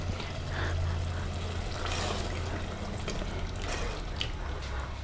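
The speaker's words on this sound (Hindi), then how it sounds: "थोड़ा सा पानी डालेंगे थोड़ी ग्रेवी करने के लिए।" Water poured into a kadai paneer gravy in a home kitchen, a steady soft splashing trickle heard close up over a low hum, with no talk.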